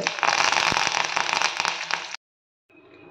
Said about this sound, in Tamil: கடலைப்பருப்பு, உளுந்தம்பருப்பு நல்லா செவக்கட்டும்.